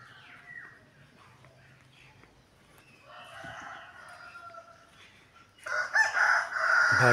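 Chickens and chicks mill about in a lit coop after feeding, with soft scattered clucks until a rooster breaks into a loud, close crow near the end.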